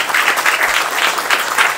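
A college lecture audience greets a guest speaker with loud, sustained applause, dense clapping from many hands rolling on evenly without a break.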